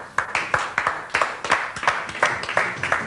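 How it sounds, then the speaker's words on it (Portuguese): A TV studio audience applauds a departing guest on a Portuguese youth show, a steady run of loud, close, evenly spaced claps with no voices over them. "Continue palmas para ele."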